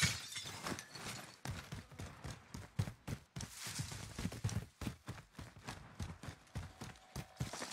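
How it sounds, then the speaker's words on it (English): Glass shatters during a tactical shooter match, one of a busy series of crashes, impacts and footstep-like thuds, loud and choppy throughout. "I heard glass break."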